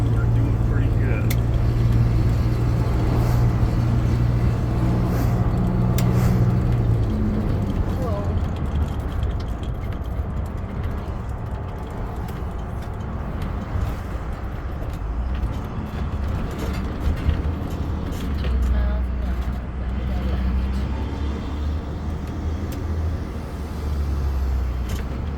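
A Jeep engine holds around 2,000 RPM while climbing a hill, a steady low drone with road rumble that stays constant and moderately loud, heard from inside the vehicle.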